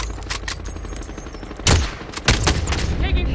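Gunfire in a squad-based video game: a steady crackle of rapid shots with heavier bursts at about 1.7 and 2.3 seconds, close and loud, with a faint voice in the background.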